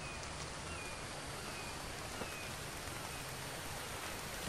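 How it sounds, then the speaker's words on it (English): Steady rain in the survival video game The Infected, a dense, even patter with no breaks, moderately loud and alone. "Bit of rain."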